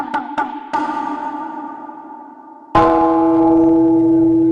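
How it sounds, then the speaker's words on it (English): A Japanese temple bell is struck several times, a couple of quick taps and then a fuller strike, before a final heavy strike rings out loud and close with a long, sustained metallic hum; no voices. "Japanese temple bell"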